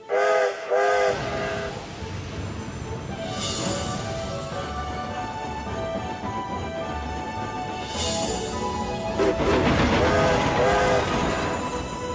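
A train chugs steadily with a rumbling rhythm, punctuated by two loud steam whistle blasts, one early and one near the end, with a faint voice.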